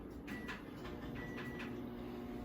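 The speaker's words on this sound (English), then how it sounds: "We're gonna put that in the microwave" A microwave oven runs on medium heat: a steady low electrical hum drones continuously with faint periodic whirring, close by, with no talking.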